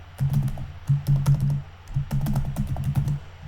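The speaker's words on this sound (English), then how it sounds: "And then I'm going to type profile. So type here profile." Rapid keystrokes on a computer keyboard come in two close bursts of steady typing with a brief pause between, clicks fairly loud and near with no talking.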